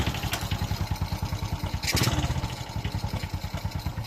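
A Honda XRM 125 motorcycle engine running after a top overhaul, its steady rhythmic putter close and even, with one brief louder clattering rise near the middle.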